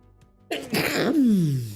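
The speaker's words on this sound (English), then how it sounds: "I have to sneeze." A single loud sneeze bursts out after a brief quiet moment, ending in a drawn-out, falling vocal tail.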